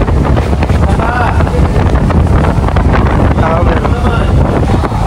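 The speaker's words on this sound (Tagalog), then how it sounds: "Malakas yung hangin." Strong wind buffets the microphone with a constant loud rumble, mixed with the drone of a boat motor and faint voices underneath, at a fish port in Infanta, Quezon.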